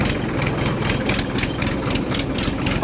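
A tractor engine runs steadily on the way to a farm field, its loud, close, low diesel chugging continuous and even throughout, with no voices over it.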